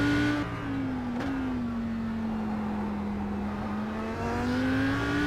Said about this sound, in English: It's a fun car to drive, and it's just the V10 sounds so good